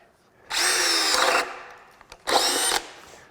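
A Craftsman CMCD721 brushless hammer drill runs on a 2 amp hour battery, boring a large spade-style bit into wood in two loud close bursts of whining, grinding drilling separated by a short pause with light knocks.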